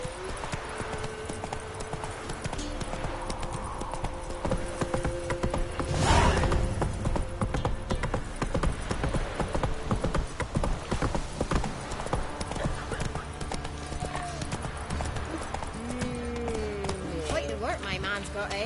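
Roach the horse gallops in a video game, a steady clip-clop of hooves running throughout over music and ambient game sound, with a brief whinny near the middle and voices talking in the background.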